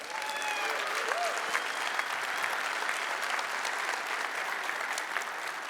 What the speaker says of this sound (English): Can I get a big round of applause for...